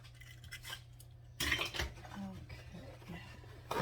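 A spoon clinks and scrapes in a bowl while an egg is stirred into dough ingredients, a few sharp taps followed by softer scraping, up close and brief, with a voice faintly present.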